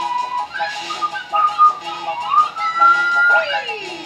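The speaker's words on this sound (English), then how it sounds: "Yes, that's me whistling." A person whistles a wandering melody with sliding pitches over game music during a Super Mario Galaxy play session, fairly close and steady for about four seconds.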